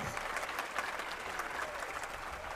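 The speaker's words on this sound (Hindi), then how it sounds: "अब ताली बजाने, झूमने, नाचने का मौका है।" A large crowd gathered for a Jain monk's sermon in Indore applauding together, dense steady clapping that fills the whole moment without a break.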